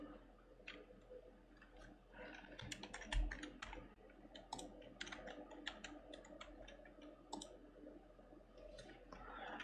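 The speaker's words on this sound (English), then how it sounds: "here you're gonna type your current password" Someone types a password on a computer keyboard while changing Windows 10 sign-in settings: a quiet, close run of rapid irregular key clicks with a few heavier presses, lasting nearly ten seconds without speech.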